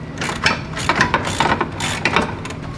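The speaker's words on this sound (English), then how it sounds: "I need to loosen up this side as well. Just loosen up. We're not going to take the bolts all the way out." A ratcheting wrench clicks in quick repeated strokes as bolts on a bass boat transom are loosened, close and steady with no speech.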